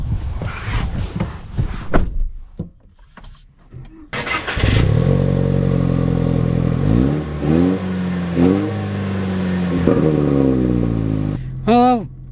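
Manual 2024 Toyota Tacoma pulling away after a stretch of cabin noise and talk, the engine droning steadily and rising in pitch through several gear changes, moderately loud from inside the cab, ending in a sharp rev.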